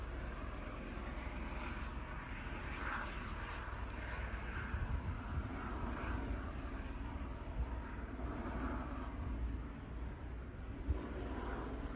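An airplane drones overhead for a long stretch, a steady, fairly faint rumbling roar that holds level without fading away, with no talk over it.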